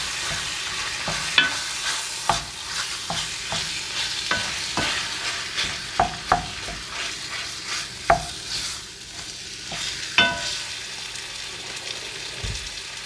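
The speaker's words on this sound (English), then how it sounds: "I'm going to throw these in a minute. Just stir it up a little." A spoon stirs chili with canned mild Hatch green chilies in a pot, giving a steady sizzle broken by repeated scraping strokes and sharp knocks at an uneven rhythm, close up.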